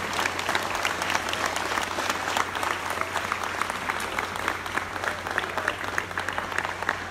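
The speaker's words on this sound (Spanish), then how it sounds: "por lo que yo quiero pedir un aplauso muy fuerte para los padres de familia y para los maestros" Loud, steady applause for parents and teachers at the inauguration of a secondary school in Chiapas, Mexico, dense crowd clapping that holds evenly over a low constant hum from the sound system.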